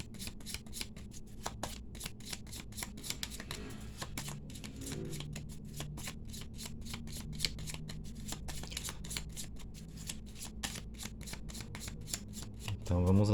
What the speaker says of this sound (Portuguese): embaralhei cortando e cartas na mesa para você